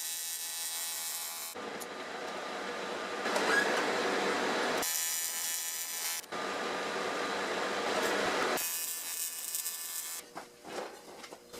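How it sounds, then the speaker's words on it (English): An Everlast 250EX welder arc-welds metal brackets for a car's front lip splitter, its harsh buzzing crackle coming in several bursts of a few seconds each, separated by quieter pauses, close and steady. "Time to weld these up"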